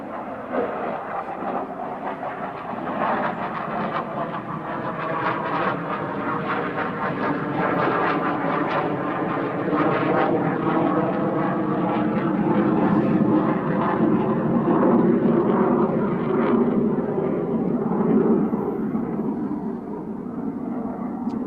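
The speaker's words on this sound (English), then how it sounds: "There's a plane coming." A propeller or jet airplane passes overhead, a broad steady roar that swells gradually and stays loud for the whole stretch before easing slightly at the end, with no voices over it.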